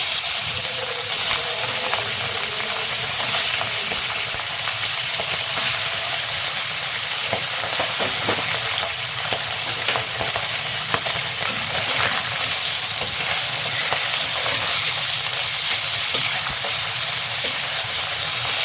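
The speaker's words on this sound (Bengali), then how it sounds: "খুব কড়া ভাজবো না, আমি খুব একটা কড়া ভাজি না মাছটা" Bata fish frying in five spoons of white oil in a pan, a continuous loud sizzle and crackle with occasional stirring pops, heard close without talk.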